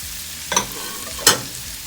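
Celery and onions fry in butter and oil in a pan, a soft steady sizzle broken by two brief louder stirring scrapes, close and with no talk.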